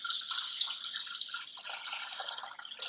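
600 grams of water pours steadily into a Thermomix TM6 mixing bowl, a continuous bright splashing stream lasting a few seconds with no voices.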